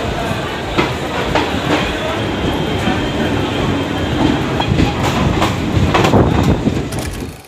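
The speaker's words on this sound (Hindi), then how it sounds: "2 मिनट हॉल्ट के बाद निकल चुके हैं बापू की जन्मभूमि बापू धाम मोतिहारी रेलवे स्टेशन से" A Garib Rath Express train pulls out of Motihari railway station after a two-minute halt, wheels clattering steadily over the rails in a loud, continuous rumble with rhythmic clicks, heard from on board.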